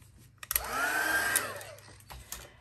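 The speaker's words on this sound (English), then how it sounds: "we're going to heat set that." Heat tool whirring as it heat sets embossing powder on paper in a craft project: a steady blowing roar with a rising and falling fan pitch, close by and lasting about two seconds, bracketed by small clicks.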